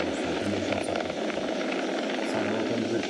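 SpaceX Falcon 9 rocket engines roar during a crewed launch while throttled down ahead of maximum dynamic pressure, a steady broadband rumble heard from a distance with low droning tones.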